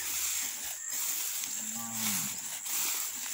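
A Nelore cow moos once on a farm, a single drawn-out low call midway against a quiet outdoor background.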